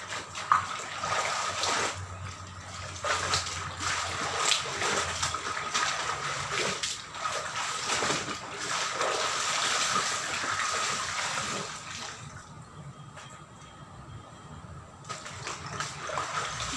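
Water sloshes and splashes as white clothes are washed by hand in a basin, with bursts of rushing water and wet scrubbing close up. The sound is steady with a brief quieter stretch.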